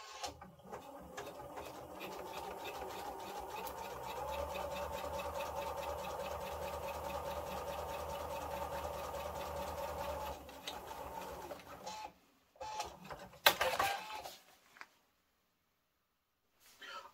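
A sewing machine stitches shroud lines onto the inside edge of a ripstop nylon parachute, running in a steady continuous whir for about ten seconds before stopping, followed by a few brief clunks and then quiet.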